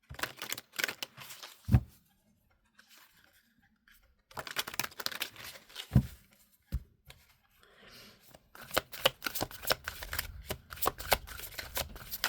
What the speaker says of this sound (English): I want to pull you 6 tarot cards